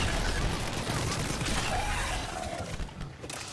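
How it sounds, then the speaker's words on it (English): Plasma shotgun blasts in the video game Mass Effect 3, a dense, loud burst of gunfire-like noise throughout, with game effects and a brief voice underneath. "Eat my plasma shotgun."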